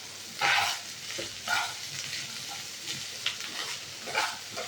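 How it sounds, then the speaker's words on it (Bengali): Egg pulao with sugar and garam masala being stirred in a pan, soft sizzling under repeated scraping strokes of a spoon across the pan bottom, close and moderately quiet, with no talking. "একটু নেড়ে দিই, নাহলে নিচটা লেগে যাবে"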